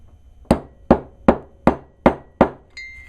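Six evenly spaced sharp metallic hammer blows strike a 9/16 socket, driving a new oil seal into a Honda distributor. Each close, loud strike rings briefly, and a short metallic clink follows the last one.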